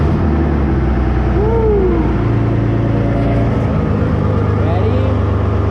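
Monster truck engine with no front drive shaft fitted, running loud and close with a deep, rough rumble and rising revs, while voices talk over it.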